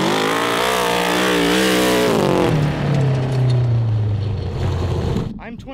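A 750cc kart engine revs hard and accelerates up close, loud and rising, its pitch climbing then sliding down as it pulls away, with a voice briefly heard over it near the end.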